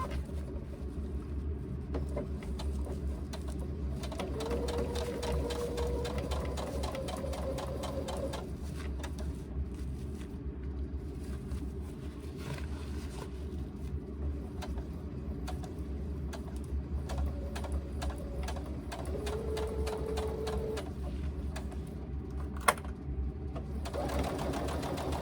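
A sewing machine runs an eighth-inch basting seam around the edge of a laptop bag, with long stretches of steady close stitching broken by brief pauses and small handling clicks.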